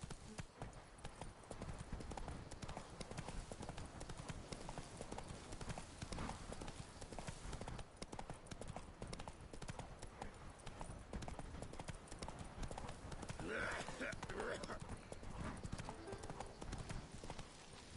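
The horse Roach gallops in The Witcher 3, hooves pounding a fast, steady clip-clop rhythm close by under a wash of outdoor ambience, with a brief vocal burst near the end.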